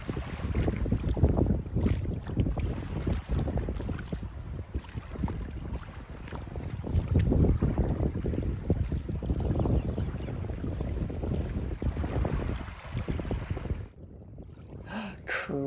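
Wind and surf on Fort Myers Beach wash in a steady, fairly loud roar with rolling swells of wave noise, briefly thinning near the end, with no talking.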